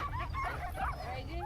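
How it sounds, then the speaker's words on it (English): Sled huskies yip, whimper and bark in excited bursts as a pack waits to be hooked up for a walk on a cruise-stop husky excursion, a busy continuous chorus close by with a low rumble underneath. "as you can tell, the barking is getting louder"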